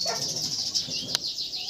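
Canary recovering after its molt, giving faint, thin high chirping and twittering with one sharp click, close by and without talk.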